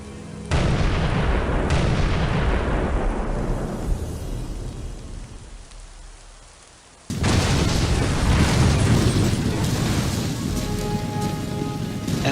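Medieval bombards in Medieval II Total War pound castle walls: heavy booming blasts that roll and decay, a second salvo after a brief lull, with crumbling rumble.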